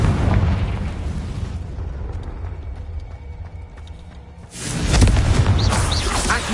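Confringo fire spell blasts in the Hogwarts Legacy video game: loud roaring bursts at the start, a quieter stretch with faint crackles, then another heavy rumbling explosion that sustains to the end.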